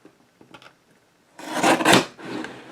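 Paper card trimmed for a handmade recycled baby card, a few faint scrapes followed by a louder, close rasping cut lasting about a second, heard alone without talk.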